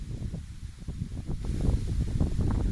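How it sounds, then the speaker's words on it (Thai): Strong wind blows outdoors around a rural home under an overcast sky, a steady low buffeting rush that swells louder partway through, with no voices. "ลมแรงมากครึ้ม"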